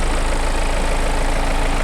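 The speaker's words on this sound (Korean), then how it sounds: "엔진 소리 일정합니다." A BMW X3 F25 xDrive 20d diesel engine idles with the hood open, a loud, close, steady low rumble with an even mechanical throb and no talking over it.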